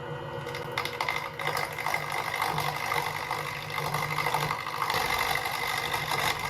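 A Grizzly lathe runs out of the box at its lowest speed, giving a steady mechanical whir with a faint repetitive clacking from the gears, close and continuous with no talking.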